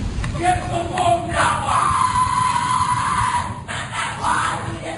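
Rough, chaotic shouting and screaming from a group during the Skull and Bones secret society initiation ceremony, several voices bellowing and yelling over one another with steady crowd din throughout.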